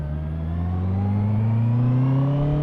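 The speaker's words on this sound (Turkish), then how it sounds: "dört silindir sesine bir bak" A car engine revving up steadily, pitch climbing smoothly over a few seconds, loud and close with no talking.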